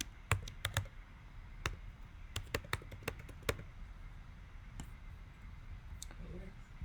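Clicking keystrokes on a computer keyboard while typing with a custom font, scattered taps in irregular bursts over a quiet room background.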